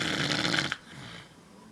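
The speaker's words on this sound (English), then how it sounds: "That was my uncle snoring" A man snores loudly and close, one long rasping inhaled snore that cuts off sharply, followed by quieter breathing.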